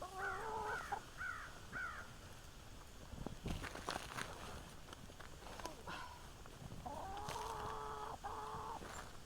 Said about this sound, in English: Hey, you sweet chicken.